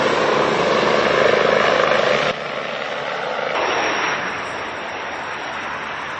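A firefighting aircraft dropping water retardant over a wildfire in France drones loudly overhead, its engine noise strong at first, then dropping in level and fading as it moves away.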